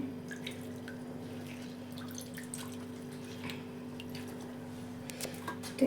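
Faint scattered drips and small trickles of bitter water draining from soaked bitter gourd into a container over a low steady hum, a slightly louder splash near the end.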